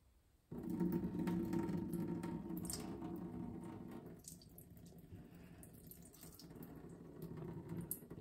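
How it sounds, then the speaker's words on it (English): Water poured off freshly washed homemade butter, a steady splashing stream that starts abruptly, runs loud for several seconds, then thins to a lighter trickle. "Really want to pour off as much of that water as possible."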